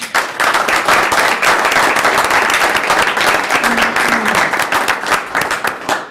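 A large audience applauds steadily, a dense wash of many hands clapping at full volume throughout, with no talking over it.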